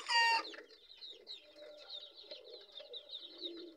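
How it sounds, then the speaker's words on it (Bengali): Pure native desi hens on a farm give a busy stream of soft clucks and chirpy calls after a brief louder squawk at the start, heard fairly close with no talking. "তারপরে আছে আমার পিওর দেশি মুরগি, এটা কোনো ক্রস বিট না, এটা পিওর দেশি মুরগি।"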